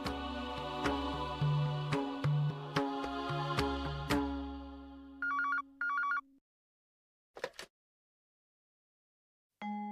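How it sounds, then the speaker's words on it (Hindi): A telephone rings in a home as an outgoing call is placed: a loud, sustained melodic ringtone with chiming notes, then short beeps and a brief pause before the line picks up, with no talk heard. "मुझे विशाखा को फोन करना है"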